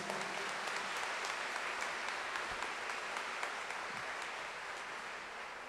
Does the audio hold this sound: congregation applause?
yes